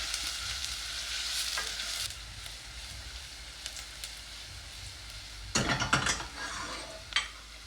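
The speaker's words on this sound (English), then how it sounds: "I am stirring it so that the oil will get all over the onion. I'm waiting the onions to get fried a little bit" Onions fry in hot oil in a pot while being stirred, with a steady close sizzle broken by scraping, clattering stir strokes and a louder burst of stirring near the end.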